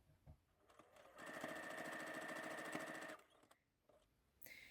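A sewing machine quilts fabric at stitch length 3, running steadily for about two seconds with a dense, rapid mechanical stitching rhythm, then stopping; close and clear.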